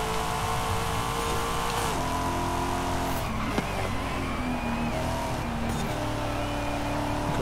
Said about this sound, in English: And this car sound sounds good.